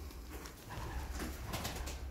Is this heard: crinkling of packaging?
no